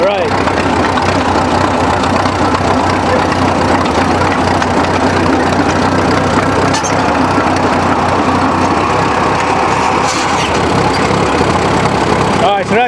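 A 1932 Caterpillar Model Ten dozer engine idling in neutral, a loud, steady low rumble close by throughout, with people talking over it.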